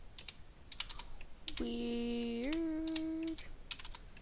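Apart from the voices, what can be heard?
typing on a computer keyboard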